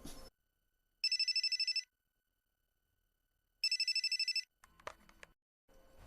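Two bursts of an electronic telephone bell ring out clearly with a silent gap between them, set in a tense police-raid scene. A short scuffle of other noise and a faint sound follow the second ring.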